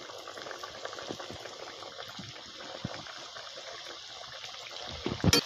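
Refined oil goes into a hot wok and heats with a low, bubbling, liquid hiss, fairly quiet and steady, ending in a few louder clatters near the end.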